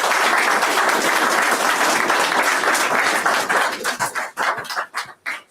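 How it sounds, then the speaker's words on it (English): An audience claps steadily for the Lieutenant Governor at a men's support group gathering, a dense sustained applause that thins into scattered separate claps before fading out. "Give him a round of applause."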